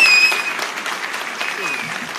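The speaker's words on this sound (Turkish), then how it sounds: "Daha kuvvetli alkışlarınızı rica ediyoruz." Steady applause from a crowd at a political party provincial congress in Hatay fills the whole stretch, dense and even, with a brief whistle tone near the start.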